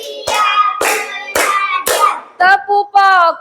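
In a clapping game, a group of voices chants rhythmically while crisp hand claps land at the start of each phrase, with a few quicker voiced syllables at the end.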